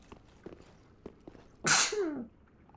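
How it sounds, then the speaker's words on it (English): A single sharp, loud sneeze bursts out near the microphone after a few faint clicks and rustles, from someone sitting at home. "Sorry, I sneezed."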